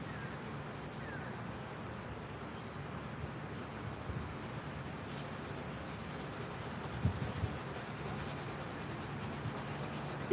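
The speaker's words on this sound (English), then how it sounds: "I'm sanding it down in different spots and different places as I'm trying to recover and restore the car" Sandpaper rubs steadily over the body of a 1967 Dodge Dart under restoration, a faint, continuous scratchy hiss with slight rhythmic strokes and no talking.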